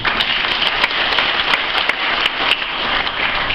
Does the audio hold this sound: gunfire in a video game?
no